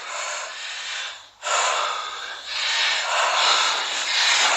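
Heavy, deliberate breaths are drawn close to the microphone during a workout, three long airy inhales and exhales with a brief pause after the first.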